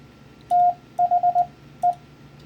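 A single steady beeping tone sends the Morse code for the word 'the' at 20 words per minute: one long dash, a quick run of four short dots, a brief gap, then one last dot. The tone is crisp and close, over a faint background hiss.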